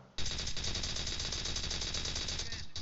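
Rapid automatic gunfire in the battle royale video game PUBG, a loud continuous burst of shots lasting several seconds with only brief gaps, close and dominant in the mix.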